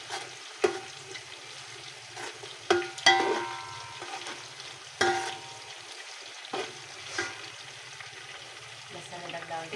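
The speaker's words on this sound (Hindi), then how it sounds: "लहसुन अदरक डाल देती हूँ मैं।" Oil sizzling as garlic and ginger go into frying white cumin in a pot, with sharp clanks of a spoon stirring and scraping at irregular intervals over a soft bubbling hiss, close and fairly loud.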